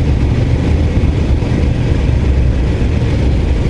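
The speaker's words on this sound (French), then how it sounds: "Je vous laisse profiter du bruit du moteur." A loud Royal Enfield Scram 411 motorcycle engine drones steadily in fourth gear on a forest road, with a low rumble and constant wind-like noise, no voices.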